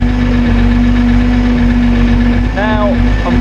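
A BMC 5.1 engine runs on a dynamometer, a loud steady idle with a strong constant hum throughout and a brief rising rev near the end.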